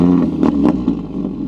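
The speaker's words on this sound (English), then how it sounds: "Gaz, please start the car up, my friend." An Audi RS3's engine starts up close by with a brief, throaty burst that settles quickly into a rumbling idle, with no one talking.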